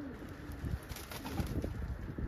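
A muffed fancy pigeon hen coos in soft, repeated throaty bursts, close by over a steady hissing background, with no speech.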